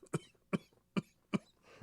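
Four sharp, painful coughs from a person with a cold, evenly spaced about half a second apart, close and fairly loud, followed by a short rough exhale.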